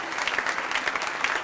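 A conference audience applauds a panel on AI and the arts, a dense, steady patter of many hands clapping at moderate loudness throughout, without any speech.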